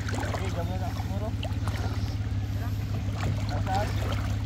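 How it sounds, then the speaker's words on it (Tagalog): A fishing boat's engine runs steadily, a low throbbing drone close by throughout, while voices talk faintly over it. "Ang daw tunog ng makina yan, oh."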